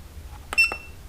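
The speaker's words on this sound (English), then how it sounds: "Let's turn the beep off." A Kingbolen battery analyzer gives a short, clear electronic beep up close, with a few soft button clicks around it in a quiet room.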